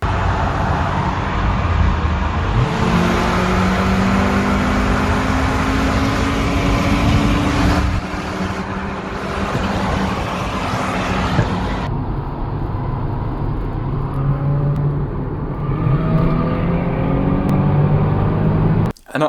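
A 25-year-old VR6 car engine with a single-mass flywheel revs repeatedly, rising and falling in pitch over a loud, continuous roar, heard close up with no voices.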